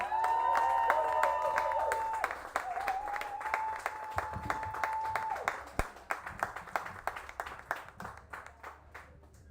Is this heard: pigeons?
no